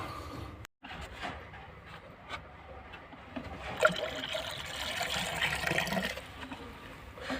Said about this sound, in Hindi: पी ट्रैप में पानी डालेंगे